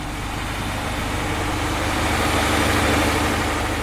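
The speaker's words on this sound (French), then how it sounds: "il y a un ballon où le gaz est piégé qui permet d'alimenter le moteur qu'on va entendre maintenant" A farm methanizer's biogas engine, fed by gas from animal manure, runs at a steady idle, a loud and constant low droning hum close by with no talking.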